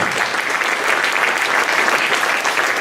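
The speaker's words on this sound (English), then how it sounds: "Another round of applause for Mika and for putting this thing together." An audience at a Sacramento Darwin Day event gives a loud, dense round of applause that holds steady and unbroken for the whole stretch.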